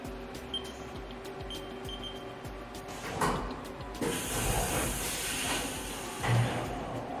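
Haas CNC milling machine with a side-mount carousel tool changer running a program that uses tool pre-calls, giving steady mechanical whirring with ratchety clicks and thumps of the fast tool change, moderately loud and without talk.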